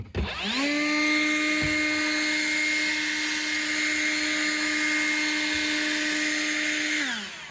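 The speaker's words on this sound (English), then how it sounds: "I'm just starting off with a little blowing of the rooftop off" A powered blower whines loudly and steadily while clearing dust off a pitched rooftop covered in ZIP sheathing, spinning up at the start and winding down at the end.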